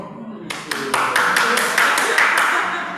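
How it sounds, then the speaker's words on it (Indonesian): A small group bursts into clapping, about nine sharp, separate handclaps in quick succession, close and fairly loud over a low murmur of voices. "Memberikan tepuk tangan karena kenikmatan nasi padang"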